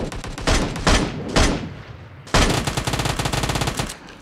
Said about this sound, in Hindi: चार नंबर फायरिंग कर रहे हैं